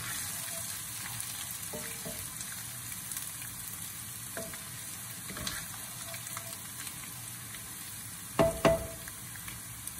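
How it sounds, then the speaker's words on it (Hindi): Garlic and ginger fry in a pan for tomato rice, giving a steady, moderate sizzle with occasional louder stirring scrapes near the end, no talk. "इसी टाइम बस आपको इसको एक मिनट तक लहसुन अदरक को जरा थोड़ा सा पकाना है।"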